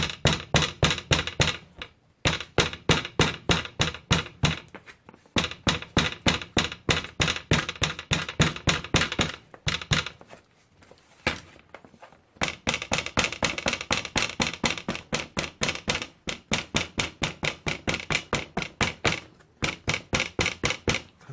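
A hammer taps steadily on the edges of homemade palm slippers, producing long runs of rapid, close, even knocks broken by a few short pauses, with no talking.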